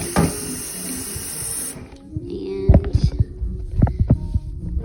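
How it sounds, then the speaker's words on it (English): Water splashes and sloshes in a sink as raw shrimp are swished around to rinse them, with uneven bursts of movement over a running hum. "Just going to swish them around in the water a little bit."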